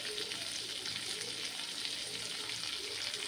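Tomatoes sauté lightly with salt in a pan for a vegetable kuzhambu, giving a soft, even sizzle that holds steady without pause.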